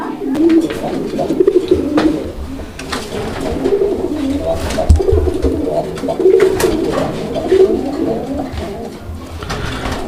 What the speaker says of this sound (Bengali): আমরা কবুতরটা ডাক ডুক দেখালাম দর্শকদেরকে